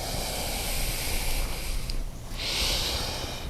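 A long, deep breath out through the nose during a yoga session, a steady breathy hiss sustained over several seconds with a brief dip midway, close and alone.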